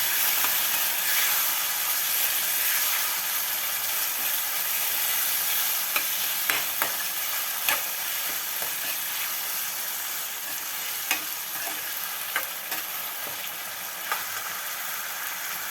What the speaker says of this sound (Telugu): ఆనపకాయ ముక్కలు వేసుకుందాం. పచ్చివాసన పోయే వరకు వేయించుకుందాం.